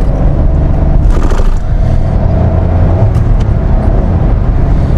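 A Kia Syros turbo petrol car accelerates through the gears on a top speed run, giving a loud, steady roar of engine and road noise from inside the cabin, with no voices.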